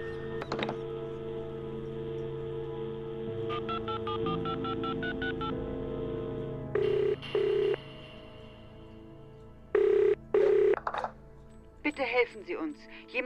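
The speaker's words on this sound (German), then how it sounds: "Was ist das für ein Klingeln? Ein ganz komisches Klingeln." An odd ringing telephone in the video game The Lost Crown sounds as a series of clipped electronic tones, a quick run of pulses followed by louder separated bursts, heard alongside game ambience and background music.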